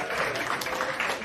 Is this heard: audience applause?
yes